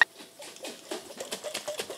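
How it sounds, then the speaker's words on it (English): A lidded jar holding a honey drink is shaken by hand, giving a steady, rapid rattling slosh of liquid that repeats in quick strokes, close to the listener and moderately loud. "Now I put the lid on it. I pray this is on there good enough. And we're just gonna shake it"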